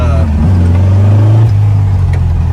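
A restored, lowered 1964 Volkswagen Beetle with an 1835cc engine accelerating hard in second gear, the loud, close air-cooled engine note rising in pitch in a steady pull.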